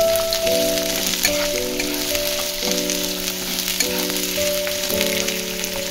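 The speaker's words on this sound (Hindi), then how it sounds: "एबे आमे पियाज को पकई देबा पकई के आमे भलो से घांटी देबा" Onion, garlic and chopped chili frying in hot oil, a loud steady sizzle that runs throughout with no one talking.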